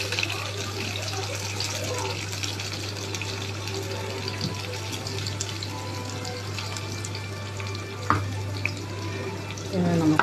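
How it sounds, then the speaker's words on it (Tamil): Onion and masala fry in a pan for a duck fry, giving a steady broadband sizzle over a constant low hum for the whole stretch, broken by a couple of brief clinks near the end. "நம்ம ஃப்ரை பண்ண போகிறோம்."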